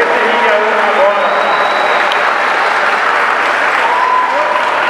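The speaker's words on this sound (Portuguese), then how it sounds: "Muitos aplausos." A crowd at a Muay Thai combat event in Rio de Janeiro applauds the fighters, with dense, steady applause throughout and a few voices and whistles carrying over it.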